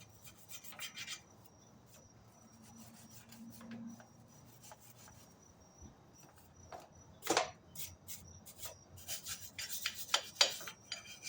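A brush scrubs grit and grime off a mini bike part, quiet rasping strokes early on, then louder, quicker bursts of scraping near the end.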